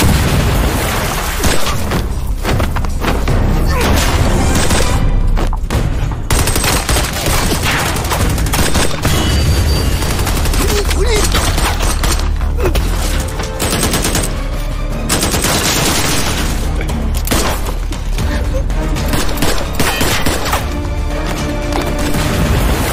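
A film gunfight against terrorists erupts in continuous loud automatic gunfire, dense overlapping bursts and booming blasts filling the whole stretch with barely a pause.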